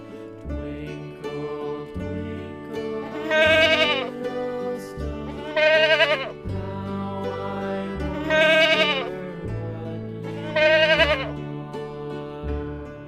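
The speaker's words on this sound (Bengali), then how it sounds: "ছয়ে ছাগল ছানা লাফিয়ে চলে" A goat kid bleats four times at regular intervals, each call loud and wavering, over a steady backing of music.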